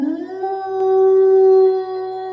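A werewolf's howl, a single sustained tonal wail that rises in pitch, then holds steady and loud close by before trailing off, with no talk.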